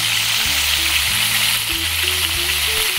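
Pork for pata tim fries and browns in a pan, giving a loud, continuous sizzle and hiss throughout with a low humming tone steady underneath.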